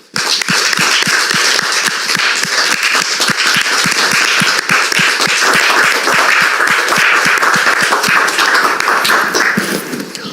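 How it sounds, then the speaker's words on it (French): A studio audience bursts into sustained, loud applause to welcome a guest onto a talk show stage, with dense clapping continuing steadily throughout and no talk over it. "je voudrais vous demander de le recevoir ici maintenant sous vos applaudissements"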